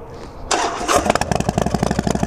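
A custom Harley-Davidson Fat Bob with extra chrome fires up close by. A starter whir gives way to the engine catching, then a loud, uneven, lumpy idle with rapid rhythmic pulses.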